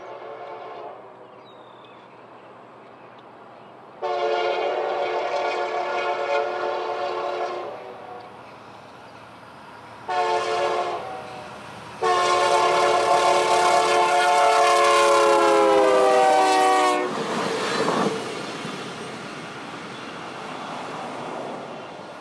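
A westbound Union Pacific Operation Lifesaver special train sounds its horn in several loud blasts: one long, one short, then a sustained call, followed by the rumble of the passing train on a triple-track mainline.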